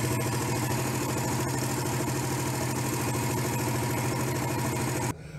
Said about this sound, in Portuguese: Minha primeira moto, uma Suzuki S 125